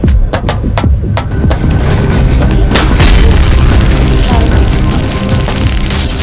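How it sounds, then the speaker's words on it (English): A taser fires in the video game Bite by Night, a loud booming burst followed by a heavy, throbbing electronic roar that fills the rest of the clip. "Taser fire."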